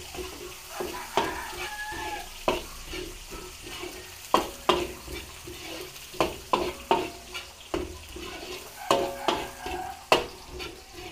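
Chopped garlic and then onion sautéing in a pan for a Filipino home-cooked dish: a steady oily sizzle broken by frequent sharp scrapes and knocks of a spatula stirring, close and fairly loud, with no talking.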